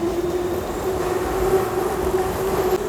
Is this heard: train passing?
yes